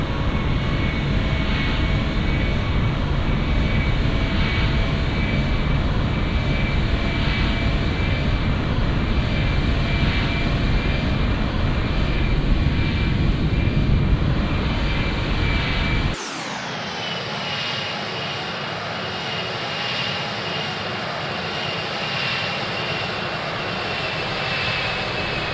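Boeing 767-300ER jet engines in X-Plane 12, cruising at 39,000 feet, a loud steady roar with a thin whine. Partway through, the sound drops sharply to a quieter, muffled hum, as if heard from a different position.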